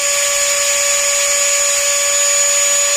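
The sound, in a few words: Ryobi or Dremel rotary tool spinning at full speed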